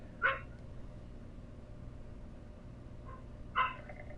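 A dog named Winnie lets out two short, sharp barks a few seconds apart, moderately near, over a quiet indoor background.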